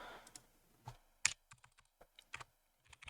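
Keystrokes on a computer keyboard in a quiet room, a handful of separate taps spread across a few seconds in an irregular rhythm, close and fairly soft, with no speech.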